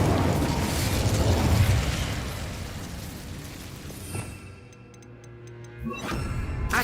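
An Incendio fire spell cast in Hogwarts Legacy, a loud roaring whoosh of flame that swells and fades over several seconds, followed by faint ticking and a small crackling burst, no voices.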